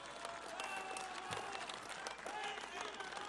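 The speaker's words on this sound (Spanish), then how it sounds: "Un aplauso al pueblo de Tepatitlán." A crowd applauds the town of Tepatitlán, Jalisco, at the inauguration of National Guard facilities. The applause is faint and distant, with voices heard over it.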